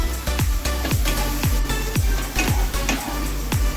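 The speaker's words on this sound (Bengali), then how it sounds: "আর টেস্টটা বাড়ানোর জন্য একটু ধনে গুঁড়ো দিয়ে এই মশলাটাকে আমি ভালো করে কষিয়ে নেব।" Spice masala with Kashmiri chilli and coriander powder frying in a pan for chole, a close sizzle broken by regular rhythmic scraping strokes of stirring, roughly two per second, steady and without talk.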